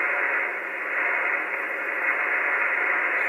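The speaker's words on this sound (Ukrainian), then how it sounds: "Зростає рівень шуму." A radio receiver connected to a magnetic loop antenna hisses with a steady, band-limited static noise, moderately loud and unbroken throughout.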